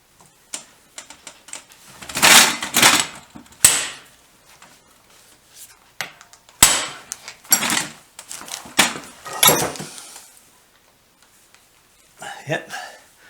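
Sharp metallic hammer blows drive a screwdriver into a small slotted screw on a BM Enfield 350 trials motorcycle, coming in irregular bursts of close, loud strikes with pauses and clatter between them.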